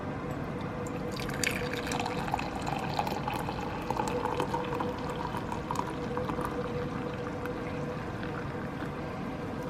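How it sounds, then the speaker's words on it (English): Coffee pours into a cup with a soft, continuous liquid splash and trickle, fairly quiet and steady throughout with no talking. "I'm gonna go ahead and pour myself some coffee"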